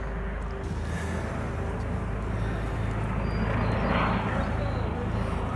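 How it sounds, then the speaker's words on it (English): Helicopters circle overhead near a logging exclusion zone, their engines and rotors making a loud, continuous low rumble that fills the air while people talk. "The choppers are circling overhead."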